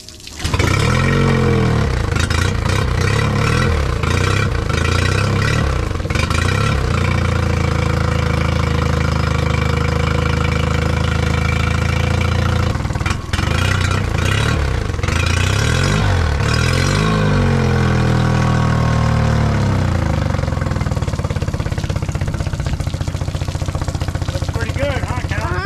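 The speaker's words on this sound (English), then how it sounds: "You want to see the whole motor. All right, let's give her a pull and see what happens." Outboard boat motor pull-started, then running loudly and steadily near at hand with revving swells, while people talk over it throughout.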